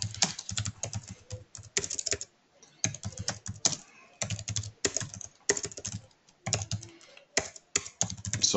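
Typing on a computer keyboard in bursts of rapid, close key clicks separated by short pauses, steady and fairly loud with no one speaking.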